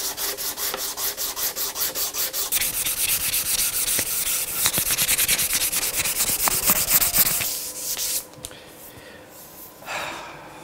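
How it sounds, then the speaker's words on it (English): Hand sanding a wooden electric guitar body: rhythmic back-and-forth rasping strokes, close and steady, speeding into a continuous scrub before stopping, with a brief faint breath near the end. "back to the joys of sanding"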